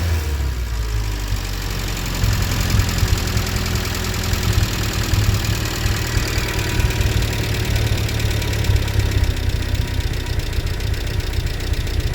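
A Talbot Horizon fitted with motorbike carburettors idles low and steady, its engine a continuous deep rumble with a slight knocking pulse and no voices.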